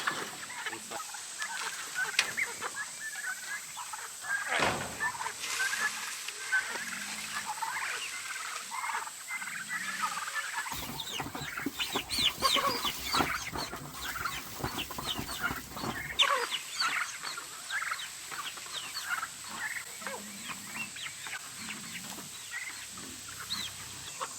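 Chickens and turkeys cluck and chatter in a busy flock in a backyard, close by, with scattered calls and rustling throughout.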